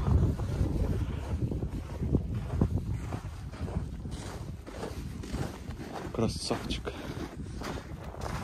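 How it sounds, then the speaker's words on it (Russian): Wind gusts buffet the microphone in uneven rushes, with brief voices, laughter and footsteps over the blustery noise. "ветер же дует."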